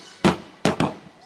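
Fireworks explode at night over Disney's Fantasyland, three sharp booming bursts with the last two coming close together, each fading quickly into a quiet gap.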